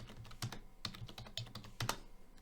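Close, steady keyboard typing with a run of crisp, uneven key clicks as a git clone command is entered in a computer terminal.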